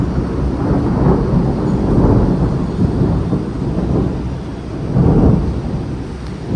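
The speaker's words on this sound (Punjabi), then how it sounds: "ਬੱਦਲ ਲਿਸ਼ਕਦਾ ਤੇ ਮੀਂਹ ਪੈਂਦਾ ਮੀਂਹ ਚੱਲ ਪਿਆ" Heavy rain pours down steadily in Jibhi, Himachal Pradesh, while low thunder rumbles and swells in waves, loud and enveloping, with no voices.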